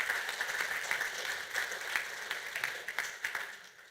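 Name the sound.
audience applause for the donors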